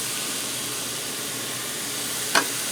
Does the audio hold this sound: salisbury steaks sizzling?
yes